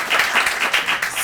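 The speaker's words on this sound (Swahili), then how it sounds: "Simuongeze hiyo makofi tena." Studio audience applause on a talk show, a steady burst of many hands clapping close and full for just over a second, with no voices over it.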